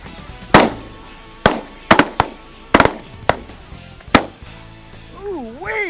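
Shotgun blasts ring out on a duck hunt: about seven sharp, loud reports fired in quick irregular bursts, with one pair nearly back to back. A wavering, warbling tone rises and falls at the very end.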